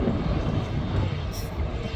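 A KLM Airbus jet accelerates on the runway at Manchester Airport, its engines giving a broad, steady roar at a moderate distance.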